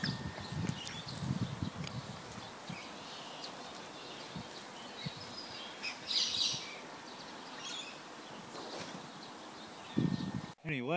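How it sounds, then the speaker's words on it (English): Several kinds of birds chirp and sing in the early morning, giving scattered high calls at moderate distance over a steady outdoor background, with occasional low thumps and some talk underneath. "a couple of different birds just popped in"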